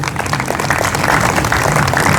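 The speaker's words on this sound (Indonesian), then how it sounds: "Tepuk tangan buat Yesus" A church congregation claps for Jesus during a worship service, producing dense, steady, loud applause throughout with no voice on top.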